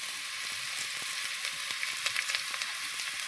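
Onions fry in oil for biryani with a soft, even sizzle and scattered small crackles and stirring taps, fairly quiet and close.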